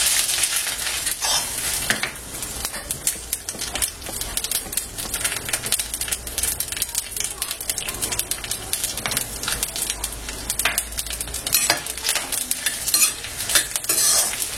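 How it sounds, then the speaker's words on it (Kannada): Mustard seeds frying in coconut oil: a dense, continuous crackle and spatter with fast popping throughout, plus occasional metallic clinks of a spoon against the pan, loud and close with no talking. "1 ಸ್ಪೂನ್ ಆಗೋಷ್ಟು ಕೊಬ್ಬರಿ ಎಣ್ಣೆನ ಹಾಕ್ಬೇಕು ಹುರಿಲಿಕ್ಕೆ."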